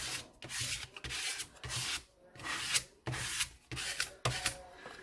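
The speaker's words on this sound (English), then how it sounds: "I'm just going to scrape." Craft paint being scraped across a mixed media collage: a rhythmic series of about eight rasping, gritty strokes, each lasting around half a second, close and fairly quiet, with no voices.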